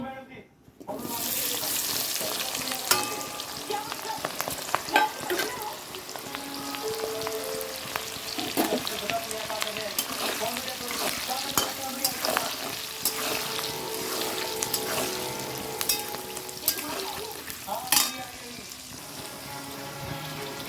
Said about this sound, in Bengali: এবার এর মধ্যে পেঁয়াজটা দিয়ে দিচ্ছি